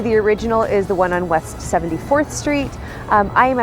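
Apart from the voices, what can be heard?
No everyday noises stand out.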